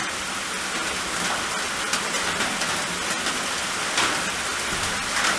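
Steady rain pours down around an off-grid cabin, a dense, loud hiss of drops hitting surfaces with occasional heavier patters.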